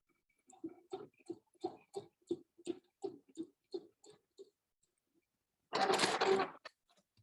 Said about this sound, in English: All right, got that sewn in.